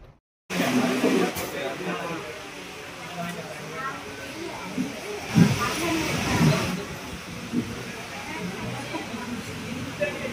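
Heavy rain falls outdoors while people are travelling by road and stop near a tea stall. It makes a steady, close hiss that fills the whole clip, with voices talking over it.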